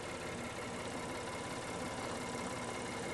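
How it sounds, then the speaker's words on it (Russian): A 2017 Acura MDX engine idling, a smooth, even hum with a low steady rumble and no revving, quiet and unchanging for the whole stretch. "Моторчик просто шелестит, вы слышите, да, как вот он работает?"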